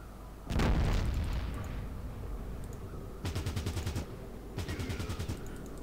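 Gunfire in the tactical video game Fallout Tactics: a heavy blast followed by two rapid bursts of automatic shots, close and loud, with no talking.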